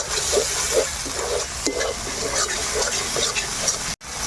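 Tomatoes hit hot oil with cumin and spices in a pan, giving a steady loud hiss and sizzle with faint stirring scrapes throughout.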